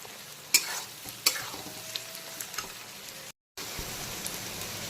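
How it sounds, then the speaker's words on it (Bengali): Onion and garlic sizzle softly in a pan for a chicken curry while a spatula scrapes through them in a few distinct strokes, the frying quiet and close. "এখন আবারও 2-3 মিনিট সময় নিয়ে খুব ভালো করে পেঁয়াজ আর রসুনটাকে ভাজা ভাজা করে নিতে হবে।"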